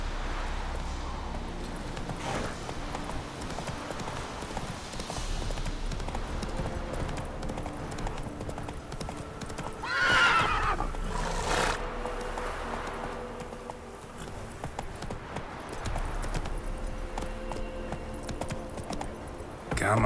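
Roach, the horse in The Witcher 3, gallops with steady rhythmic clip-clop hoofbeats running through the whole stretch over ambient game sound, with a brief louder burst midway that may be a neigh.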